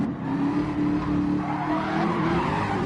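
A Citroen race car loses grip in Gran Turismo 7, its tires squealing in a long, steady skid over the engine's drone as it slides loose on a downhill section of the track.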